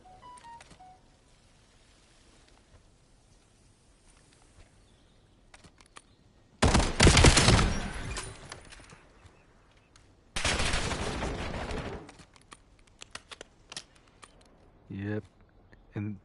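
Two loud bursts of gunfire from Call of Duty Black Ops 7 cut through a quiet stretch, each lasting a couple of seconds, with scattered clicks and a commentator talking between them.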